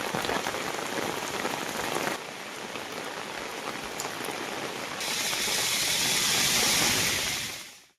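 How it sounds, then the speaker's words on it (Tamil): Heavy, steady rain pours down in the Western Ghats hill region, a dense, loud wash of drops on surfaces that swells stronger toward the end with no voices. "மேற்கு தொடர்ச்சி மலைப்பகுதிகளில் பரவலாக விட்டுவிட்டு கனமழை பெய்து வருகிறது"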